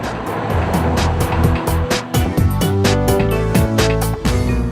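A Suzuki car drives by with a loud, close engine roar that rises and holds steady over a few seconds, with no one talking.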